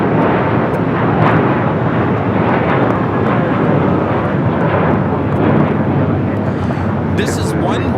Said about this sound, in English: taking off to JFK on this A321, JetBlue Airways Flight 324